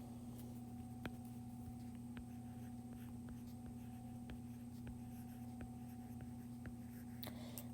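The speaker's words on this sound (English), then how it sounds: "I'm going to write that down there for you" A pen writes notes on paper in a maths lesson, making a quiet run of light scratches and taps over a steady electrical hum, with no voices.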